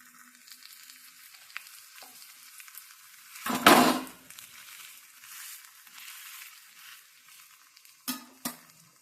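Ragi adai frying in oil in a pan, a low steady sizzle running throughout with one louder burst of crackle near the middle and two short sharp spits toward the end.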